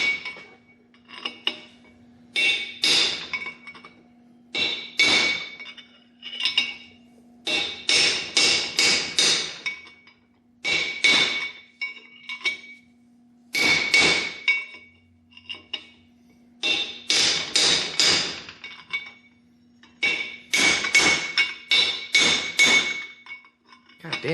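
Hammer blows on a steel punch while working on a Ford 8.8 independent rear differential, a dense run of sharp metallic strikes coming in quick bursts with short pauses between, loud and close, with a steady low hum underneath.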